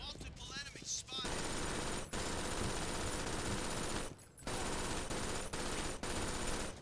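Sustained automatic fire from a machine gun in the online shooter BRINK, a dense loud rattling stream broken by a few short pauses, with a brief voice near the start.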